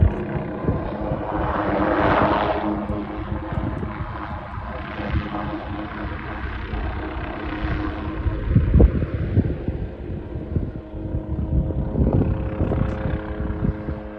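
A low, droning helicopter engine roar with a steady hum, rising and falling slightly as it passes over a wild horse roundup, mixed with wind buffeting; no voices.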